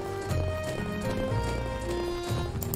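Horse hooves clip-clop in Legend of Sword and Fairy 5 Prequel, a few soft steps close by over steady background game music, with no speech.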